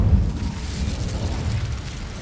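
Incendio fire spell cast in Hogwarts Legacy inside a cave: a loud, low whooshing burst of flame that rumbles steadily for a couple of seconds with no speech.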